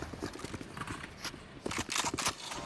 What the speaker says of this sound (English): They can hear, again, the rumbling of the footsteps forwards.